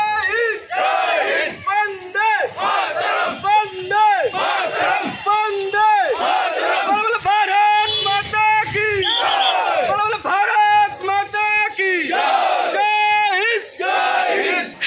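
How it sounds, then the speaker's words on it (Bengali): A large crowd at a BJP tricolour march in Sonai for Independence Day chants patriotic slogans in loud, rhythmic call-and-response waves, continuous and close for the whole stretch. "হর ঘর তিরঙ্গা কর্মসূচিকে সফল করার অঙ্গীকারে গর্জে উঠল দেশাত্মবোধের স্লোগান।"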